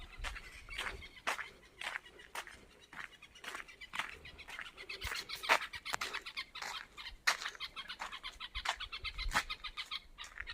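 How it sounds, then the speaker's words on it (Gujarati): Many small birds chirp and tweet in quick, overlapping bursts at a moderate distance, with no one talking. "બપોરનો સમય છે તો પંખીઓનો કલર સંભળાઈ રહ્યો છે"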